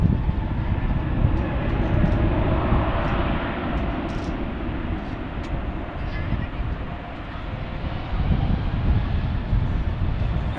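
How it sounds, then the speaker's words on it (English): Regional jet at DFW airport rumbling past with a broad continuous engine roar and rushing noise, steady and loud for the whole stretch, with faint background sounds on top. "All right, so we got a regional jet and then we'll have back-to-back heavies here."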